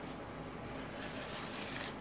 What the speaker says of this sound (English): I'm not a very good shuffler, but I'm gonna try.